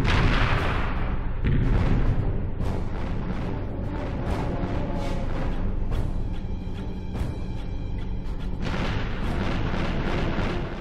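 Rapid blaster fire and explosions while shooting at ships in Ratchet & Clank, a dense barrage of bangs and booms with sharp bursts, loud and continuous, with game music and effects and no talking.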